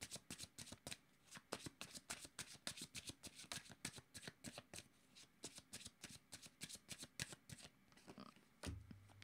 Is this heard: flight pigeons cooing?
no